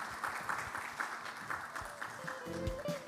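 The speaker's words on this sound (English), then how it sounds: "Big applause, please." Audience applause at a breakout session of a summit on embassies in Korea, a moderate wash of clapping that holds steady throughout, with a faint voice or tone entering near the end.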